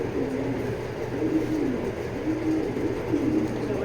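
Breeder pigeons in a loft coo repeatedly in soft, rolling calls over a steady low background hum, several birds overlapping at close range without any voices.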